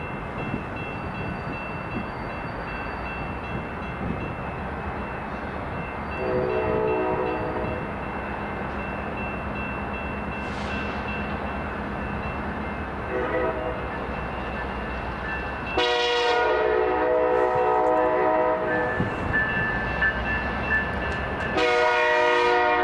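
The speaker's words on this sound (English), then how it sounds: "Amtrak ALC-42 number 336 is reversing from the Amtrak coach yard" An Amtrak ALC-42 locomotive idles and rumbles steadily while reversing out of a coach yard, sounding several horn blasts, one long and loud near the end, with engine noise throughout.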